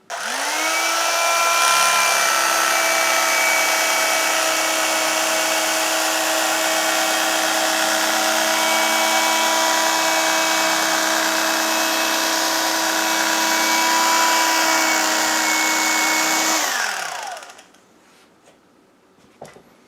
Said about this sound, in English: I'm going to use my almost vintage electric carving knife to cut my foam.